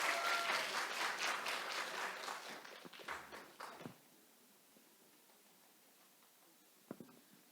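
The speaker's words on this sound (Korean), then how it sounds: "큰 박수로 맞이해 주세요." A church congregation at a Sunday service applauds a child presenter, loud sustained clapping that thins out over about four seconds and gives way to quiet room tone, with one brief knock near the end.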